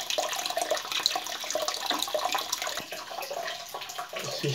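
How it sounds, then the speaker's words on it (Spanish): Water keeps running out of the drain of an electric water heater during maintenance, a steady close rushing and splashing flow that lasts throughout. "Sigue saliendo porque está el agua abierta."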